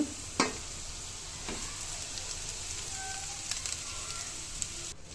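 Cooked rice is tipped into a pan of fried onion and salt for pepper rice, giving a faint, steady sizzle with a few soft knocks and scrapes early on.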